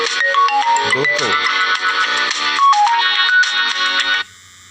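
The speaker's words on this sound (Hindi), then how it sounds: "अभी ये फ़ोन आया हुआ है" A mobile phone rings loud and close with an incoming call, its melodic ringtone playing repeated looping phrases before cutting off abruptly near the end.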